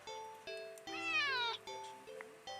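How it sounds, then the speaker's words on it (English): A cat meows sharply once, a single rising-then-falling cry, over a steady tonal background that shifts in steps. "the cat meows sharply at you and dashes off around the corner into the hall"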